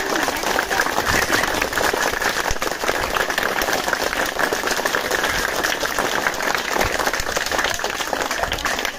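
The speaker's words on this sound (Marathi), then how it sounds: "जोरदार टाळ्या." Sustained applause from an audience at a prize-giving for winners of a glass-tower-building contest, a dense steady clatter of many hands lasting throughout at even loudness.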